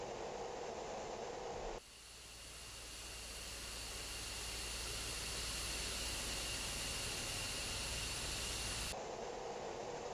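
An F-15E jet engine in a flight simulator spools up as the throttle is increased for taxi, a loud steady broadband roar that swells gradually after a brief shift and holds for several seconds without talk.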